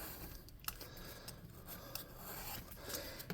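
Scissors trimming down a handmade web base for a tabletop RPG spell effect token, heard as a steady close rasping and rubbing with a few small sharp snips, no talking.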